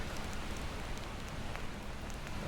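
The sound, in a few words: rain falling in the video game Enderal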